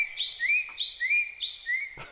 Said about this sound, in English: Birds have no respect for ceremony. They just talk right through it.